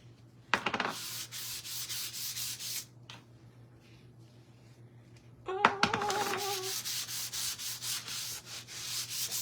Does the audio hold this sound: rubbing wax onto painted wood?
yes